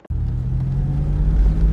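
A Porsche 986 Boxster setting off on a drive, its engine a deep, steady, close rumble that starts abruptly and holds a constant low drone without speech.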